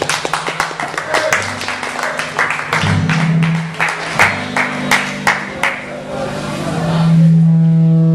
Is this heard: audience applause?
yes